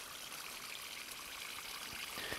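Water pours steadily into the soil around the root ball of a plant in an autumn garden, a continuous soft hiss and trickle at close range with a few faint splashes near the end.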